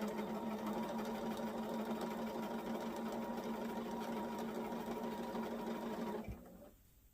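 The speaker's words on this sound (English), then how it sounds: "just the lull of the sewing machine will put me right to sleep" A sewing machine runs continuously at a steady, humming pace, fairly close and quiet, then stops abruptly near the end with no talk over it.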